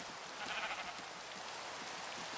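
Rain falls in the video game Minecraft as a faint, steady, even patter with soft washes of noise, quiet and unbroken throughout.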